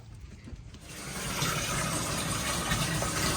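Hot water pours into a bath, the rushing flow rising sharply after a quieter start and then holding as a steady, broad splash close by.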